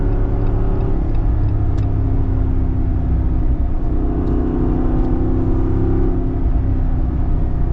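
A modified Jeep Wrangler Rubicon 392 with a naturally aspirated 6.4-litre Hemi V8 rumbles loudly and steadily throughout, a deep continuous engine drone with rising revs and no talk over it.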